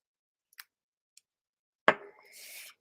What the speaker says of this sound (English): And then I just use my scissors